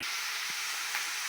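Steady sizzling hiss of egg fried rice frying in a pan, continuous and close, with a couple of faint low knocks underneath.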